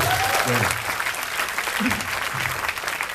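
A crowd at a Maiyah gathering with a host and Kiai Kanjeng claps continuously, a thick, even roar of applause with a few faint voices and tones mixed in.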